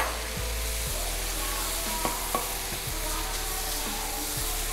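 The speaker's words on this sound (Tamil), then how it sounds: "இப்போ இந்த ஸ்டேஜில் நான் 3 தக்காளியை கொஞ்சம் ரஃப்பாக சாப் பண்ணி வச்சுருக்கேன், அதை சேர்த்துக்கிறேன்" Chopped tomatoes added to ginger and garlic frying in a pan, giving a steady loud sizzle with occasional stirring clinks and scrapes throughout.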